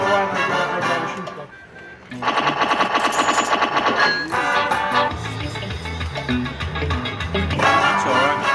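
Rapid gunfire at a shooting meet, a fast rattling burst of shots in a sustained stretch, loud and close, with other steady noise around it and voices in the background.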